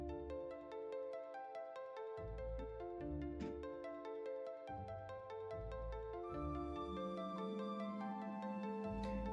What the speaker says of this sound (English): He started blinging my phone.